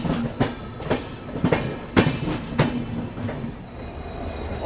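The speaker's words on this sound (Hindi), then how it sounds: "शिवाजी ब्रिज आते आते अपनी गाड़ी ने एक्सेलरेट करना चालू कर दिया है" The Duronto Express rolls and gathers speed on the tracks, with a rhythmic run of sharp wheel clacks over rail joints above a steady rumble, moderately loud and without voices.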